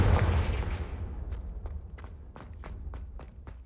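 Confringo spell blasts in Hogwarts Legacy, a run of sharp game explosion cracks coming one after another over a rumbling low-end roar, loud and close.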